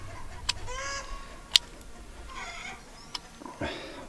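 Chickens squawk and cluck in short, agitated bursts as one sits in a nest box, with a few sharp clicks between calls, fairly close by.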